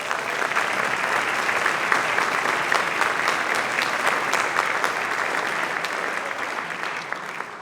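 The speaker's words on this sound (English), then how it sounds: "If you could give them a round of applause." An audience at a 7th and 8th grade school orchestra concert claps steadily, a dense sustained round of applause that stays loud and even across the whole stretch.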